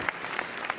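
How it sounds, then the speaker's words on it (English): Convention audience applauding, heard as a brief, faint patter of clapping from a crowd. "Give them a big round of applause"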